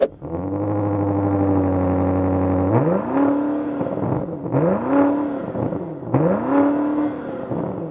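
A stationary BMW XM with quad exhausts revs against its soft limiter: a steady, droning idle, then three repeated rising revs that flatten and hang briefly before dropping back, loud and close.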